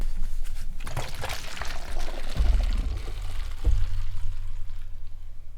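Water swirls and drains through the neck of a tornado bottle in a gurgling, pouring rush, with a couple of louder glugs as air and water trade places, and no speech.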